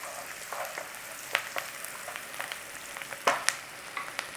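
Onions, mushrooms and garlic fry in a pan, giving a quiet, steady sizzle broken by several sharper crackles and stirring scrapes.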